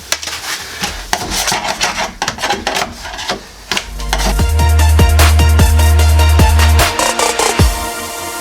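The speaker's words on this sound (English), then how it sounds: "it's just lifted up and all you have to do is really kind of scrape it up" Sound deadening being scraped off the floor of a Subaru GC8 rally build: close, harsh scraping strokes and sharp clicks, with a steady low hum rising partway through.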